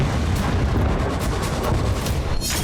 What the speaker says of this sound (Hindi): यूक्रेन का ड्रोन टकराया और जोरदार धमाका होते ही आग लग गई